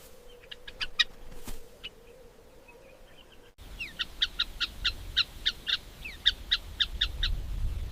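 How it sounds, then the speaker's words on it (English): Guineafowl calling while they forage across a grazing buffalo's back: sharp, repeated chattering notes, a few at first, then a denser, brisker run over a low outdoor rumble. "the guineafowl finish feeding in the areas they can reach and hop down"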